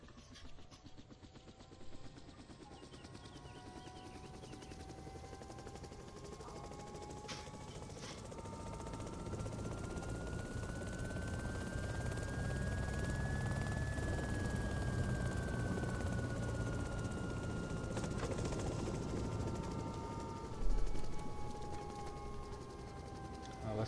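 Little Bird helicopter in the video game DayZ, its rotor and engine droning steadily with a rising whine, building slightly louder toward the end, with some faint background talk.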